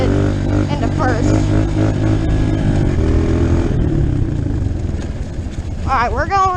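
A dirt motorcycle rides a trail, its engine droning loud and close with a sharp pitch shift as it drops into first gear, then revving up again near the end.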